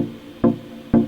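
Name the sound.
synth pluck with square wave oscillator in Serum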